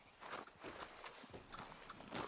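Horse hooves clip-clopping at a steady walking pace in the video game Red Dead Redemption 2, fairly faint and without speech.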